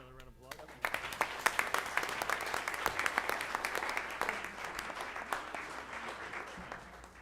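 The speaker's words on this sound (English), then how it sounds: "Another round of applause." Audience applause fills a board of education meeting room, a steady crowd of clapping hands that starts abruptly and holds at moderate loudness for several seconds, with scattered sharper claps standing out.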